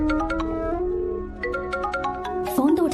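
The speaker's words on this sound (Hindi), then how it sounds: "फोन तो उठा ले।" A phone ringtone plays steadily in a repeating melodic pattern, moderately loud and close, with other sounds joining near the end.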